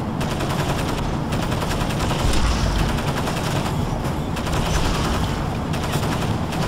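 Gunfire in the video game Crysis Warhead, with sustained rapid machine-gun bursts crackling densely and loudly throughout, a few heavier thumps mixed in.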